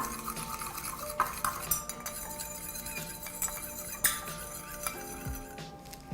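Fragrance oil being stirred into melted candle wax for a carnation candle, heard as soft, irregular clinks and scrapes of a utensil against the container, quiet and close with no talking.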